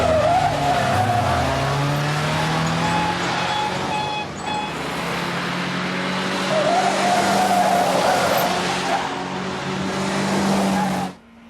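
A getaway Rover car in a chase accelerates hard with tyre squeal and a roaring engine, loud and close, sustained for several seconds before cutting off abruptly.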